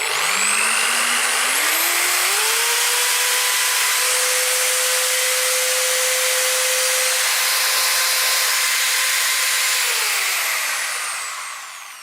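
Bosch GSB 600 impact drill running at low speed, a loud, steady whine that ramps up over a few seconds, holds, then winds down at the end, heard alone without talk.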